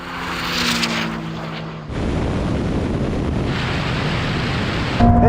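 A Porsche 911 Turbo S and a Ferrari SF90 launch in a half-mile drag race, a loud engine roar with rising tones giving way to a dense, steady rush of wind and road noise at high speed, heard up close.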